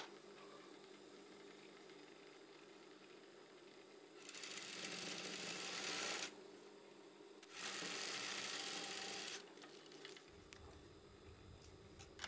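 A sewing machine stitches fabric for a pair of shorts in two loud, steady bursts of about two seconds each, separated by a short pause, over quiet background noise.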